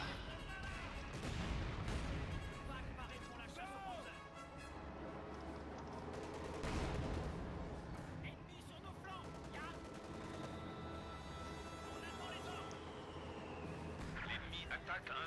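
Sniper and other gunfire in a Company of Heroes 2 multiplayer battle, with repeated sharp shots and heavier booms over constant rumbling battle noise, loud and dense.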